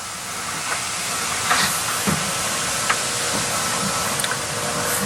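Steam hisses steadily in a steam room after a workout, a constant broad rushing wash with a few faint clicks scattered through it.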